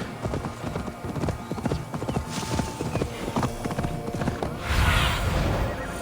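A horse gallops in the Assassin's Creed Valhalla video game, with rapid rhythmic hoof clip-clops close by, a whinny near the end and low game ambience underneath.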